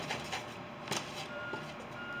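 A garbage truck reversing in the distance, its faint backup beeps repeating at a steady rhythm over an outdoor background hum.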